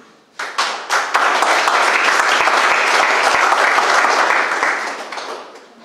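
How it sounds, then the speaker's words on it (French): A coding bootcamp demo day audience in Mauritius applauds student app developers, the clapping swelling quickly from a few early claps into loud, full applause that fades slightly near the end. "je vous demande d'applaudir Hugo, Lucien, Timige et Satine"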